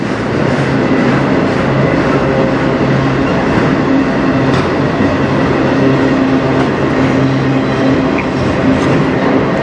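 A CN autorack freight train passes close by in Sarnia, Ontario, its loud continuous rumble and rolling wheel noise filling the whole stretch with steady clatter and faint squeals, no talking.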